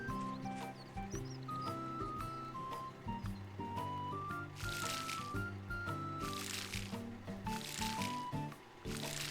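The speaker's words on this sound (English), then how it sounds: "Alright, so let's water some plants." Plants are watered in a farming video game, with soft squishy liquid splashes recurring over a light melodic game soundtrack.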